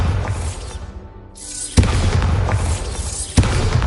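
A Bombarda spell explosion in a Harry Potter video game: a swelling whoosh leads into a loud booming blast, followed by rumbling debris and a second sharp impact near the end, with no talk.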